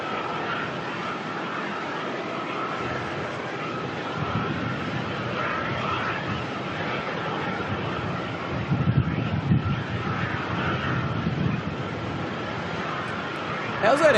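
Jetstar aircraft engines at Melbourne Airport give a constant loud roar and whine across the field at sunrise, a steady drone with slight swells and some wind buffeting on the microphone.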